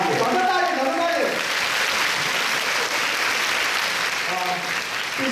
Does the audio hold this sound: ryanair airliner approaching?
no